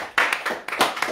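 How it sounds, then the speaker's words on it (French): In a French-speaking church service, a congregation claps hands in acclamation for Jesus, several loud, close bursts of claps in quick uneven succession over about a second, with no speech. "Est-ce qu'on peut donner une main d'acclamation pour Jésus?"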